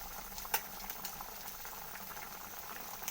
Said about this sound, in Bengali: লাউ সিদ্ধ হয়ে গেছে